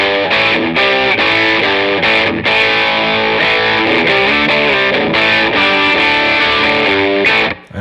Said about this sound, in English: let's just hear this preset with a little drive and room reverb